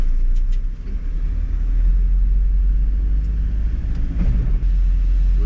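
A car rolls down a rough, narrow single-lane mountain road on Cergowa in the Beskid range, with a steady low engine drone and rumble that run throughout and some bumps and knocks from the rough surface.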